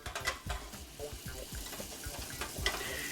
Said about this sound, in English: I'm just going to take my butter and go ahead and get it down into my hot pot here.